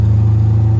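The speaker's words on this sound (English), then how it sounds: "doing a little test drive with the 82 C3 Corvette and the LT1" A 1982 C3 Corvette fitted with an LT1 engine on the road, giving a loud, steady low-pitched engine drone with a faint rhythmic pulse and no voices.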